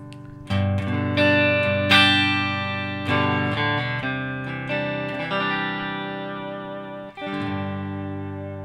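Electric guitar on the neck pickup played through a switched-on Xotic EP Booster pedal, a run of strummed chords and picked notes that ring clean and loud with a clear jump in volume and a slight room reverb.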